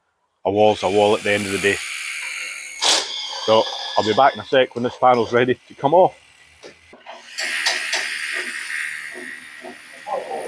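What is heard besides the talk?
drilling holes in a concrete wall for rebar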